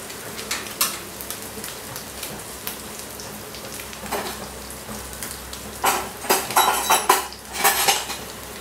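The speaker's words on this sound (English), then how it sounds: "You can see it's getting nicely fried." Coriander-crusted halloumi fries in a pan, a soft sizzle broken by sharp clinks and clatter of utensils against cookware that grow busier and louder toward the end, with no talking.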